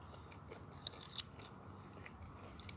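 Someone bites and chews a crunchy homegrown cucumber, two crisp snaps followed by soft, quiet chewing up close, with no talking.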